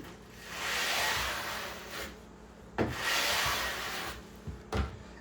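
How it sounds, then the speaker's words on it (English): A nylon brush scrubs the base of a waxed ski in two long, close strokes, each a steady rough rubbing that ends in a sharp tap. "you can follow that with this slightly harder nylon brush"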